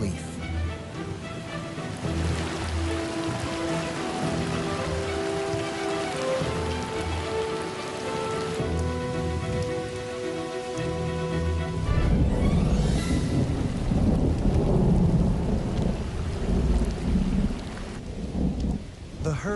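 Heavy rain pours down during a savanna thunderstorm, with a rolling rumble of thunder building midway and the downpour continuing loudly, backed by soft musical tones.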